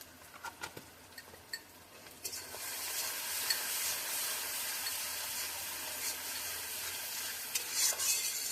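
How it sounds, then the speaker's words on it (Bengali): Spice paste with water, salt and turmeric sizzles steadily in a pan for a meat curry, with scraping stir strokes and light patter close by; a few faint bird calls sound in the background. "আমরা এবার মশলাটাকে ভালো করে কষিয়ে নেব"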